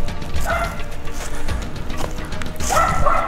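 Dogs barking outdoors on a hillside walk among the tors of West Down, Buckland Monachorum, with two short bursts of yips and barks at mid distance over steady wind and footsteps.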